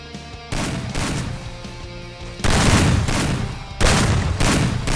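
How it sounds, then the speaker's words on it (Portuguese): Heavy 12-gauge shotgun blasts in the video game Free Fire boom out in quick succession, loud and close, with reverberant tails filling the gaps between shots. "Ele deu 2 tiros de 12 no meu carro, cara."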